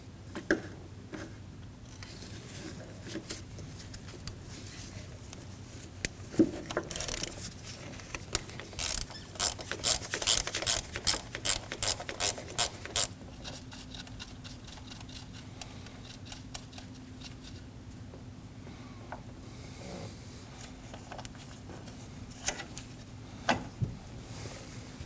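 Hand ratchet working loose 10mm valve cover bolts on a 2003-2006 Subaru Baja 2.5L H4, a burst of quick clicking and metallic rasping in the middle, with scattered softer tool clicks before and after in a quiet garage.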